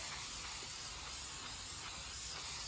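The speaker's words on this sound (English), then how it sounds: "And just spray. Just a thin layer." Continuous steady hiss of an aerosol spray can laying a thin coat onto handmade resin dominoes, close and unbroken for the whole span.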